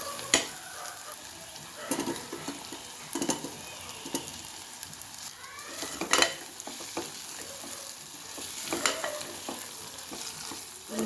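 Mango pieces fry in hot oil in a pan, giving a steady quiet sizzle broken by repeated scraping stirs and occasional light clinks of the spoon.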